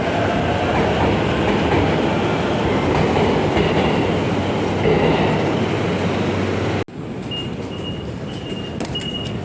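A train rumbles and clatters past on the rails, loud and close, then cuts to quieter morning rush-hour ambience at JR Shibuya station in Tokyo, with faint high squeals from wheels or brakes.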